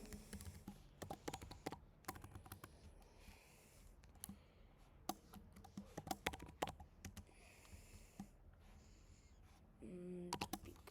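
Computer keyboard typing during a Python programming lesson: steady, close key clicks in irregular bursts, fairly quiet, with no talking over them.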